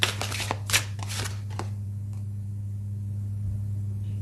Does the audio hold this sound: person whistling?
no